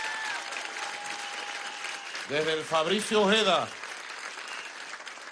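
Applause from a crowd at a political rally in Catia, Caracas, runs as a steady wash under someone speaking loudly for a few seconds, then continues on its own.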